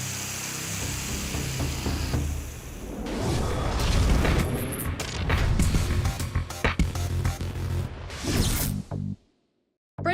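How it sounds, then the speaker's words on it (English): Gas heater explosion destroying a garden shed: loud bursting blast and crashing debris with rushing roar and scattered impacts, building over several seconds before cutting to sudden silence near the end. "This explosion produces a pressure wave that travels at the speed of sound."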